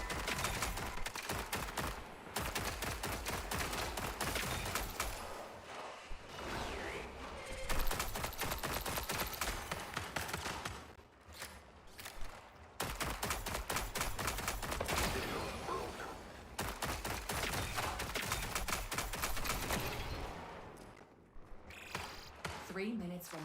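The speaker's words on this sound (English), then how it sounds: "what the hell are you shooting at?" Rapid bursts of gunfire from a multiplayer shooter game, VIP factions mode, sounding continuously across the stretch with brief lulls, loud and dense throughout.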